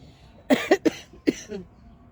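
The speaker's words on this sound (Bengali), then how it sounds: "সর্দি কাশি।" Someone with a cold in bitter winter weather coughs in a short burst of four sharp, close coughs, three in quick succession and one after a pause, with a throaty trailing sound at the end.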